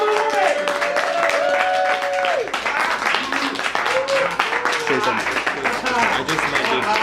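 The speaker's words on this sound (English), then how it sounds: "1, 2, 3, you're going to clap really hard and sort of get the roof off." A comedy club audience claps hard in a dense, continuous burst. Voices talk and call out loudly over the clapping throughout.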